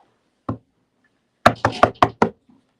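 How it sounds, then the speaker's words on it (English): Knocking on a window, one knock followed after a pause by a quick run of five sharp raps, close and loud in an otherwise quiet room. "here come Terry knocking on my window door."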